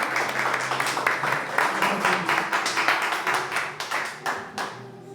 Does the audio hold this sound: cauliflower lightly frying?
no